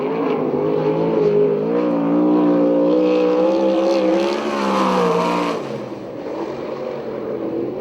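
A USAC/CRA sprint car, number 12, lapping at Perris, California. Its loud engine holds a steady high drone, rises as it passes nearby, then fades somewhat toward the end.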